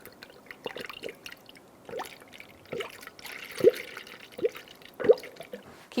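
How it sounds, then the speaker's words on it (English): Coolant gurgles and drips as it is poured through a funnel into the radiator of a 2002-2006 Honda CR-V 2.4L, with uneven splashes and glugs at a slow irregular pace, close and fairly quiet. "now we're going to fill our coolant"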